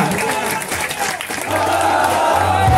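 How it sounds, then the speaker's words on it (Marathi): A loud crowd applauds and cheers at an outdoor Dahi Handi festival celebration as a human pyramid is completed, dense clapping with shouting voices and a low droning tone underneath. "जोरदार टाळ्या वाजवायच्या, जोरदार टाळ्या।"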